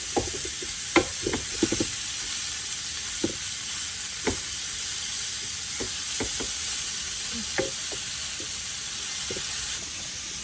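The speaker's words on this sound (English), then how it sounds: "it's very sizzly" Chorizo sizzles in a frying pan with a constant bright hiss, punctuated by sharp pops and clicks of spatula stirring, close and without voices.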